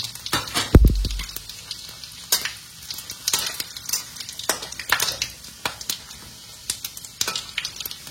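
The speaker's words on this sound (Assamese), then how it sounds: "এয়া গোটা মছলাখিনি আমি একদম লগে লগে দি দিছো" Whole spices fry in hot oil for a mutton curry, giving a continuous crackling sizzle with frequent sharp pops and spits. There is one heavier knock early on, and no voices.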